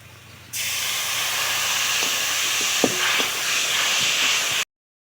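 Masala with coriander powder hisses and sizzles loudly the moment water hits the hot pan, a sustained steamy roar with a few sharp stirring clacks, then abruptly cut off.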